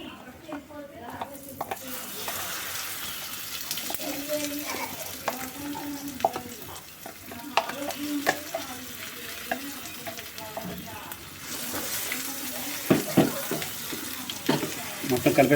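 Nalleru stem and tomato chutney being mixed in a pan, with repeated scraping and soft sizzling strokes alongside watery clatter, fairly faint and continuous throughout.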